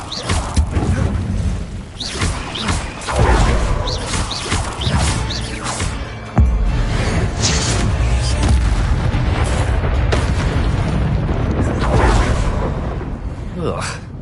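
Fire spell blasts in the action game Hogwarts Legacy, with repeated loud booming, crackling explosions and crashes in a hectic fight that is heavy throughout, and voices shouting over the noise.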